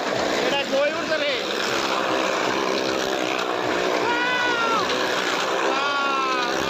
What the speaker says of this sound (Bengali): দেখেন দুইটা বাইক কত উপরে উঠছে।